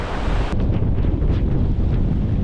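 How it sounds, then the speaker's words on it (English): Strong mountain wind in Jotunheimen, Norway, roars and buffets the microphone in a loud, steady gust with no talking. "Whew, very windy."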